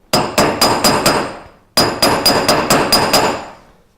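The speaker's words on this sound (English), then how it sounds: "I need to hammer this because it needs to be straight when it goes through the mill" A workpiece is hammered straight in a workshop before it goes through the mill: two bursts of sharp, ringing hammer blows, about five quick strikes then a pause and six or seven more, each clang decaying into the next.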